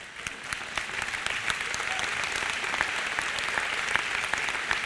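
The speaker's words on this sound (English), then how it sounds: "Worth applause." Applause from a commencement audience during a speech, a broad wash of many hands clapping at moderate level that builds slightly and holds steady, with occasional sharper individual claps near the front.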